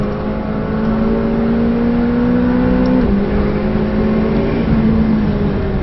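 A McLaren 720S drives fast on the Nurburgring, its engine droning loud and close with rising pitch and a brief shift midway, heard from inside the car.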